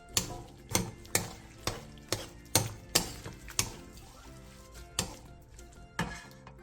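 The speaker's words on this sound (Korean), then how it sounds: "매실액 반스푼, 참기름 반스푼, 올리고당 2스푼, 통깨를 넣고 1, 2분 정도 더 끓여 마무리해주세요" Braised shishito peppers simmering in a pan with sesame oil, syrup and sesame seeds, stirred in a steady rhythm of soft scrapes and clinks against the pan over a low bubbling sizzle, close and without talk.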